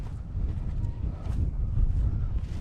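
Wind blowing across a lake on a fishing outing, a continuous low rumbling buffet on the microphone with gusty swells and no talk.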